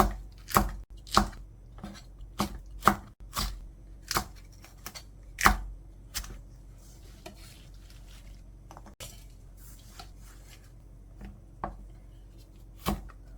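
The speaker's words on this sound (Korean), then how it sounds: "청양고추 8개 정도 준비를 했어요. 송송송 썰어서 준비해주고" Knife chopping Cheongyang chili peppers finely on a cutting board, with sharp, irregular thuds close by, clustered in short bursts and then spacing out, with no talking.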